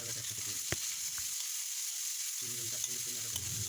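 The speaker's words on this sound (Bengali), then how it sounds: "এবারে আমি পেঁয়াজগুলোকে ভালো করে ভেজে নিচ্ছি" Chopped onions fry in hot oil in a pan for a Bengali pabda fish curry, a steady close sizzle with a few sharp stirring clicks and scrapes and a brief quieter gap, no voices.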